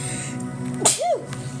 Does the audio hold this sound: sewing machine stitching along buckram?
no